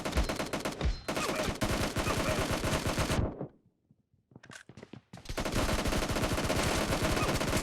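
PUBG video game gunfire comes in dense, loud bursts of rapid automatic shots. A burst opens the clip, the fire stops for about two seconds, then a long sustained burst follows, with no speech.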